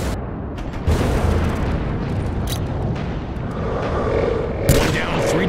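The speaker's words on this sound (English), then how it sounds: "Or you could use a grenade." A grenade blast in the Rogue Trooper video game, a dense low booming roar with crackling debris that fills the whole stretch, plus a sharper burst near the end, loud and close with no talk.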